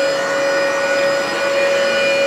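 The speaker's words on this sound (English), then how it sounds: "The vacuum's actually pretty quiet." A vacuum cleaner runs steadily up close, a constant whine with a tonal hum and airy rush that never changes in level.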